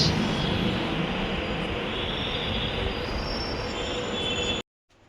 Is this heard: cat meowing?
no